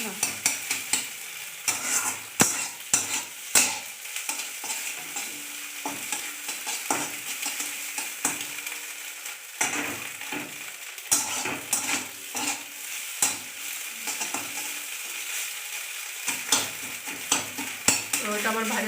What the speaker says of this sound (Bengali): ডিমটা আমি টুকরো টুকরো করে নিচ্ছি, ঝুড়ি ভাজা